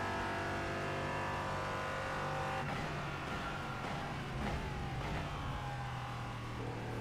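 A race car engine in the iRacing sim, a continuous loud drone that shifts pitch through gear changes and revs while driving, no voices over it.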